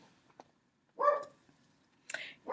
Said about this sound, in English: My dog apparently is on the deck and can see other dogs outside. It's the only time he barks.